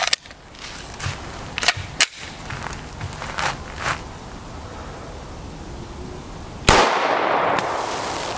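A 5.7x28mm gun fitted with an EFK barrel fires several sharp, cracking reports at uneven intervals, some muffled and distant; a louder blast near the end trails into sustained broadband noise.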